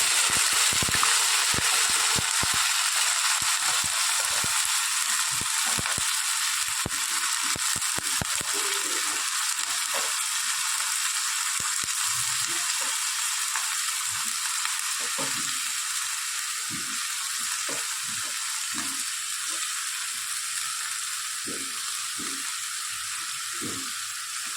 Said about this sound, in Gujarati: આપણી સરસ તતરી ગઈ છે. એના અંદર આદુ મરચાં અને લસણ